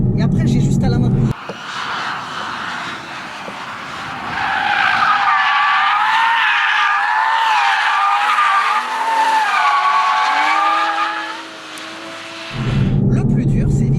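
A Toyota GR Supra drifts with a long, loud tire squeal that wavers in pitch for about eleven seconds over the engine, between bursts of close engine noise.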